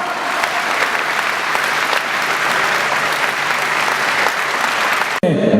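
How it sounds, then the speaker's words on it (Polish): A crowd applauds a speedway rider during a team presentation, dense steady clapping and cheering filling the room loudly before cutting off abruptly near the end. "Brawa!"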